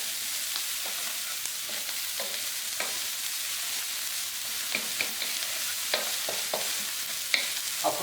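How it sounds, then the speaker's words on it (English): Vegetables sear in a hot pan for savoury rice, stirred with a wooden spoon, giving a steady, close sizzle broken by scattered light scraping clicks throughout. "Put my vegetables into the hot pan. I'll just seal them off quickly."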